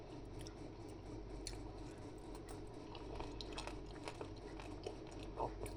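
Curd rice (daddojanam) mixed with pickled chillies being chewed close up: quiet, wet mouth sounds with soft crunchy bites scattered throughout, and no talking.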